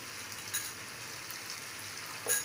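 Masala paste fries with a soft, steady sizzle in a pan of clam curry, faint and even, with a couple of brief stirring scrapes.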